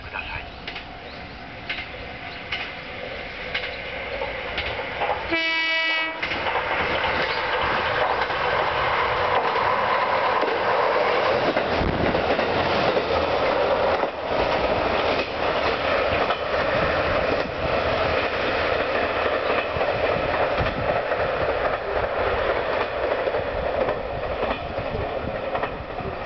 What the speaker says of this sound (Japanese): まもなく上り列車が参ります。